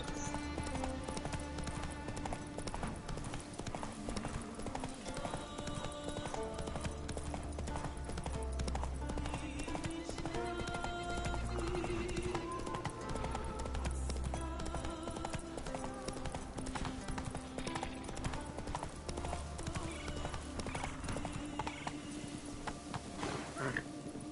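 A horse's hooves clip-clop at a steady pace in The Witcher video game, with game music and voices talking over them.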